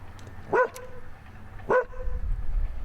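A dog barks twice outdoors, two sharp, separate barks about a second apart over a low background rumble.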